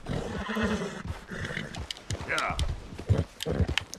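Horse hooves clip-clopping and a whinny in the Red Dead Redemption 2 game, the hoofbeats uneven and close, mixed with other game sounds while someone talks over them.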